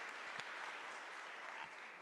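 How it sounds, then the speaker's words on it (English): Faint, distant audience applause for the US Vice President at an engagement with the President of Kenya, a steady wash of clapping lasting a couple of seconds. "a round of applause for the Vice President"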